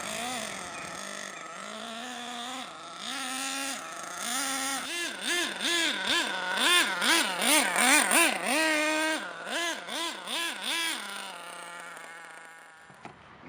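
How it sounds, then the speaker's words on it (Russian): Small nitro engine of an RC model during running-in, buzzing high and thin as the throttle is blipped repeatedly, rising and falling in quick wavering revs before settling back to idle and cutting off. "И начинаем плавно кататься, нажимая резко на газ, но не до конца. Нажимая и опуская."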